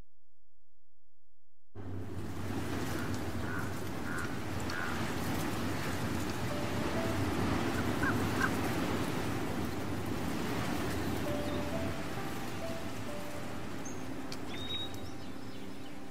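Stormy rain in a point-and-click video game, a soft steady wash of falling rain with a low rumbling undertone, starting after a brief silence and continuing evenly with faint scattered chirps above.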